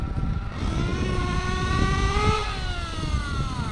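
A Reedy 121-VR nitro engine in an RC8T buggy, being broken in, buzzes steadily at partial throttle with a shrill whine that climbs slightly, heard up close with no talking.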